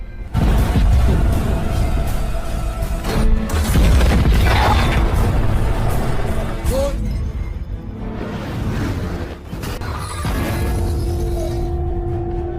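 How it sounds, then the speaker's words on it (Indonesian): Tank battle between a German Panzer and a Soviet T-34, with loud, dense booming cannon fire, crashing impacts and rumbling debris that stay heavy almost throughout, some whooshes, and no talking. "Dari arah samping, Jaeger berhasil menembak tank 34"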